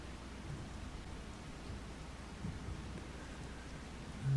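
Steady rain falls in Farming Simulator 25, an even hiss of drops that sounds close and fills the whole stretch, with a low rumble rising at the end.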